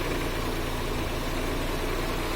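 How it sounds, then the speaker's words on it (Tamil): A Maruti 800 engine running on LPG idles with a steady, even low rumble, constant and unchanging throughout. "நல்ல ஒரு ஸ்மூத்தாக இன்ஜின் ஓடும்."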